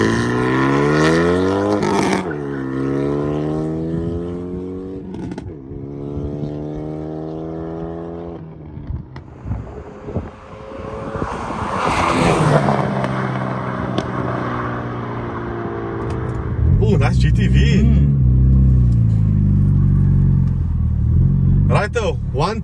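A Renault Megane R.S 225 accelerates past, its engine note rising through repeated gear changes and swelling loud near the end, with people talking over parts of it.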